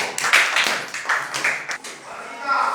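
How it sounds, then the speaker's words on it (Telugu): Children clapping their hands in a classroom, a quick scattered burst of claps mixed with voices, fairly close and bright. "గుడ్ క్లాప్స్ కొట్టండి"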